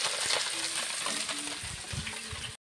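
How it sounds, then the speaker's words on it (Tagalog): Freshly caught fish fry in oil on a traditional wood-fired stove, a steady crackling sizzle with occasional soft pops and clinks heard up close for a couple of seconds. "ongoing yung pagpiprito ng mga namingwit nila"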